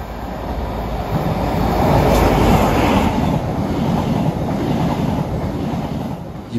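A high-speed HST train rushes past a station at night, a steady loud roar of rolling wheels and rail noise that swells and holds through the pass with no voices.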